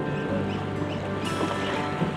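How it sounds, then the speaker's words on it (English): Sea kayak being paddled on open water during novice lessons at Dundonnell, with a steady, close wash of water and wind noise and no clear individual strokes. "Keep paddling, keep paddling."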